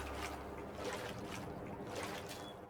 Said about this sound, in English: There is a sloshing sound when you get in the water.